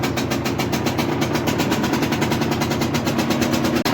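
A Derbi 50cc motorbike engine runs after a kick-start, a loud, steady, rapid two-stroke putter that holds through the whole stretch with no pauses.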